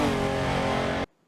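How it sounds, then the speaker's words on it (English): A Porsche Carrera in the Assetto Corsa racing game on the Goodwood hillclimb gives one loud, sustained engine roar at high revs. The sound cuts off abruptly after about a second. "for a start, the Porsche Carrera"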